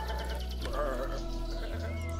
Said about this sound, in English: He got buried beneath what appears to be a big herd of sheep.